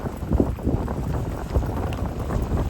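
Wind gusts roar across a boat at sea off Little Cayman, a loud, continuous buffeting rumble on the microphone with small knocks and water sounds mixed in.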